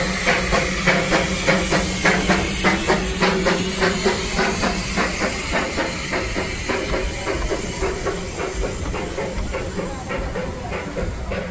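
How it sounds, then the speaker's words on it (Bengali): Coal-fired Darjeeling toy train steam engine under way: loud hissing steam over a quick, regular chuffing beat that repeats throughout, slightly easing toward the end, with no talk. "এবার টয় ট্রেন চলা শুরু হলো"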